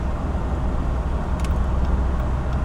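A car drives along a road with a steady low engine rumble and road roar heard from inside the vehicle, constant throughout with no talk.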